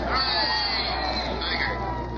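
Crowd noise at a military parade welcoming home the 1st Battalion, Calgary Highlanders: a steady murmur of voices and scattered cheering, heard as a distant broadcast-quality wash.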